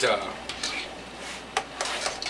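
Lasagna filling being stirred in a bowl, a close scraping and clinking of a utensil against the bowl in several quick strokes, with a few sharper taps.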